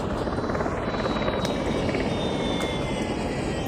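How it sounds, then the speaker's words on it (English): A helicopter flying in the VR game The Climb 2, a loud, steady rotor and engine drone that fills the whole stretch without a break. "There's dang helicopters, and there's a blimp up there."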